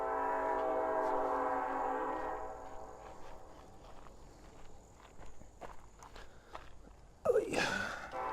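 A train rumbles and hums steadily past a campsite beside the tracks, loud at first and fading into scattered footsteps and small rustles, with a sharp rushing burst near the end.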